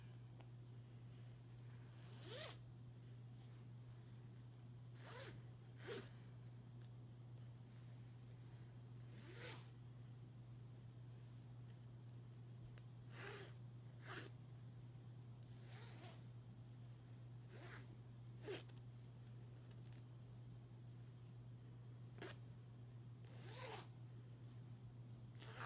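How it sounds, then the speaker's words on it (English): Zipper on a hoodie pulled up and down in a quiet ASMR clothing-store roleplay, about a dozen short, soft zips spaced irregularly over a steady low hum, close and gentle. "Zipper. Kind of zips up like the pink one, I think."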